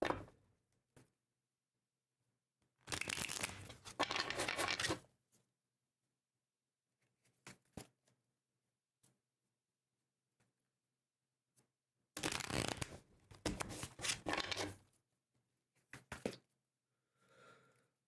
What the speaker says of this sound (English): So a couple more shuffles here.